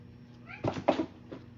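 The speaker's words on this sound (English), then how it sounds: "my cats are playing right at my feet, so now they're shaking the table and making a lot of noise" Cats playing at someone's feet under a crafting table, jostling it: a couple of sharp knocks and bumps, with a short chirping meow just before them, fairly close and without talk.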